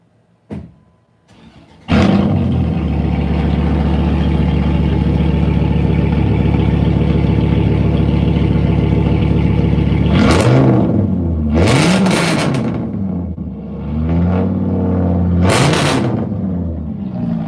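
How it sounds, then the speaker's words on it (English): A Viper truck engine cranks and fires up, settling into a loud steady rumble, then revs hard several times with a deep, throaty roar from a new exhaust, close by. "That's the new exhaust on the Viper truck."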